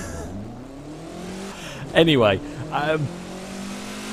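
A Lancia Delta S4 rally car engine in The Crew 2 hums and revs steadily beneath someone talking throughout, moderately loud and continuous.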